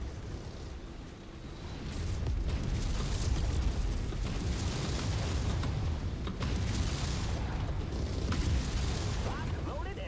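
An enemy vehicle blows up in the MechWarrior 5 video game, a rumbling blast that swells after two seconds and keeps booming under steady mech combat noise and scattered crackles.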